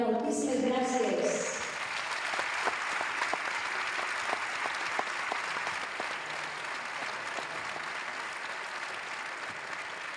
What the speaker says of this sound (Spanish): volvería a demandarnos un fortísimo aplaudimiento